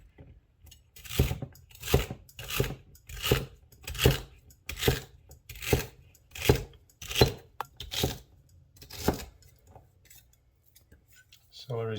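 A knife chops celery and other vegetables for a salad on a board, about a dozen crisp, evenly spaced cuts in a steady rhythm, close and clear with no talk.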